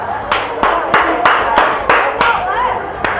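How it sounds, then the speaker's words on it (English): Loud hand claps in a basketball gym during a Cocke County Lady Red girls' game, a steady run of about nine sharp claps roughly a third of a second apart, echoing over crowd chatter. "Have a really loud clap."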